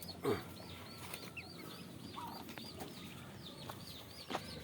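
A chicken clucks repeatedly in short rising calls outdoors, with a couple of louder squawks near the start and end.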